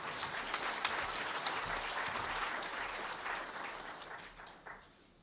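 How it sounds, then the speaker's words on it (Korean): A church congregation claps in welcome for a newly arrived pastor and family, dense applause rising and holding, then tapering off toward the end, with faint murmuring underneath. "박수로 환영해 주시기 바랍니다"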